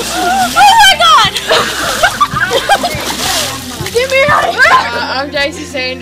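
Cold water splashes over a person during a cold water challenge, loud bursts of splatter and sloshing mixed with excited shouting and talk from nearby people.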